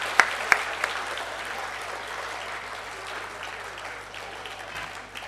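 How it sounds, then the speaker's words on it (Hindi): Sustained applause from a school audience honouring teachers at an annual day celebration, a few sharper claps at the start then a steady, dense wash of clapping that slowly thins toward the end. "तालियां रुकनी नहीं चाहिए"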